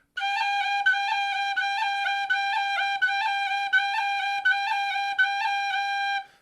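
Tin whistle playing a repeated single note decorated with quick cut and tap ornaments, heard alone in short rhythmic groupings with clean, bright tone.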